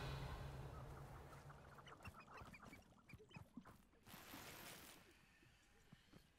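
Chickens cluck in the Hogwarts Legacy video game, a cluster of short, quick clucks and squawks at moderate distance over a soft ambient background, with a voice speaking briefly.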